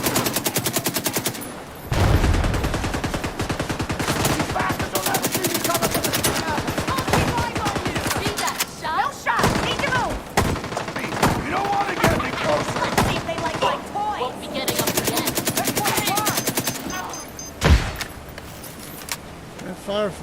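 Sustained automatic gunfire from The Division 2 rattles in long dense bursts with brief gaps, loud and close, while players talk over the shooting.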